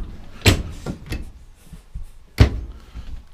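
Drawers in the kitchen unit of a 2018 Mercedes-based Thor Freedom motorhome being slid and shut, two sharp close thuds with softer rattling and sliding between them.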